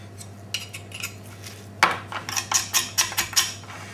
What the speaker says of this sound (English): so we're scraping the bones down here now like that, and we're removing all of the actual remaining rubbish that's on this, on that bone there